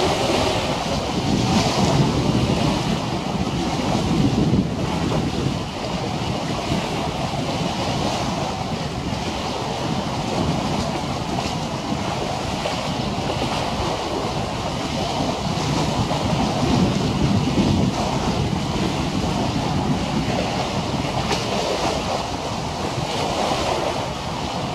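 Strong wind buffets microphone windshields during an outdoor wind resistance test, a continuous loud rumbling roar with gusty swells that never lets up.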